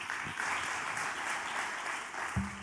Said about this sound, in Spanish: así que un aplauso, Rocío.